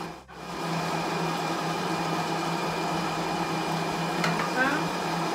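A Monsieur Cuisine Connect kitchen robot runs steadily while mixing tiramisu cream, giving a continuous close motor hum and whir that starts abruptly after a brief pause and holds level throughout.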